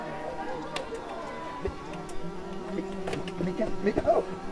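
Wasps buzz around a campsite, a faint, wavering insect drone under scattered background chatter and a few soft knocks, with no clear close pass.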